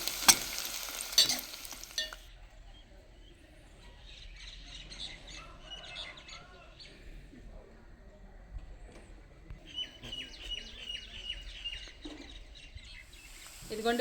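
Onions frying in oil for homemade biryani give a faint, low sizzle with occasional stirring clatter, louder at the start and end, while chirpy bird-like calls sound quietly in the background.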